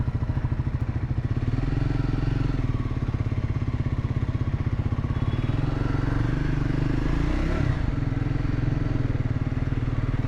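A Triumph Scrambler 400 X motorcycle chugs along in a low gear, its single-cylinder engine pulsing in a steady, close, even rhythm with a brief shift in tone partway through.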